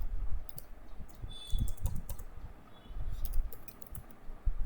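Rapid clicks of a computer keyboard as an Excel formula is typed, the keystrokes coming in quick bursts with short pauses, close and fairly quiet, with no voices.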